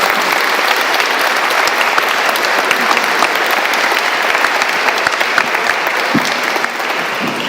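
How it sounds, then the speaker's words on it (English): Conference audience applauding a panel, a dense, steady clapping crowd that keeps going throughout at even loudness, fading slightly at the very end. "Can we have a huge round of applause for this panel, which is Bigotto, Anna, Daniel, Anthony"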